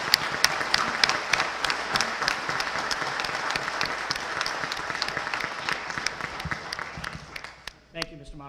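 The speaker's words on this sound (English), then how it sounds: "let us join in our hands and applause" Audience at an annual town meeting in Norfolk applauding steadily, a dense wash of many hands clapping for several seconds before it fades out at the end.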